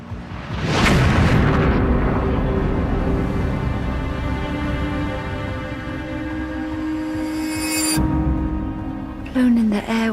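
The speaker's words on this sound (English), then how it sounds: "It isn't long before an explosion destroys Darnley's bedroom, as seen in illustrations from the time." A deep explosion sound effect in a historical documentary about a house being blown apart, opening with a heavy boom and then a long rumbling roar, partly under a narrator's voice.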